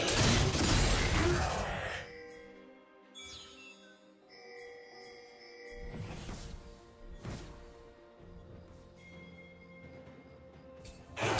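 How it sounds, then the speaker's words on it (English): A turret is destroyed in League of Legends: a loud crumbling crash opens, followed by ringing chimes, tinkling tones and softer impacts that fade, with another burst at the very end. "Blue team's turret has been destroyed."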